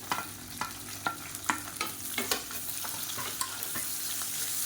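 Beetroot, slit green chillies and long-cut onion sauté in a pan as a spatula stirs them. Repeated scraping strokes sit over a soft, constant sizzle, with no speech.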